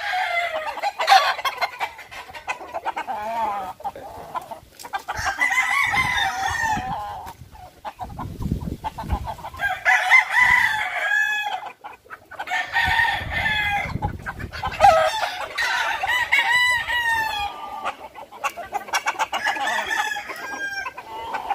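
Hens, including an 18-month-old laying hen, cluck steadily in several overlapping bursts, close and fairly loud, with brief quieter gaps between runs of calls.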